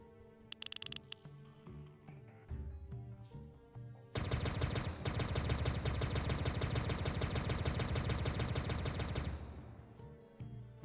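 Gunfire from several guns in a video game rings out, with a few sharp isolated shots first, then a loud, dense, sustained burst of rapid automatic fire lasting several seconds before it cuts off.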